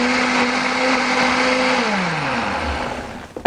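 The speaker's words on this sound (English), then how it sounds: "But first let's grind spices" Electric spice grinder whirring loudly as it pulverizes a spice blend for roast turkey, a steady motor whine that drops in pitch near the end before a brief clatter as it stops.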